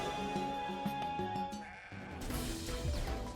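Goat bleating in the video game CrossCode, with a couple of wavering animal cries heard over continuous game music and effects.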